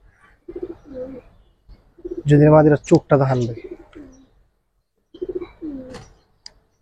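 Giribaz pigeons give a few low, soft coos at the start and end, with someone speaking loudly in between.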